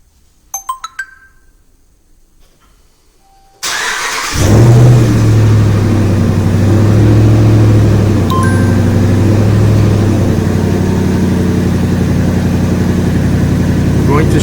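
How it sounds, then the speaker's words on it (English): A 2013–2019 pickup truck is remote-started after a short electronic chirp, its engine catching abruptly, then idling loud and steady close by with faint pitch shifts. "We're going to go ahead and we're going to start the vehicle."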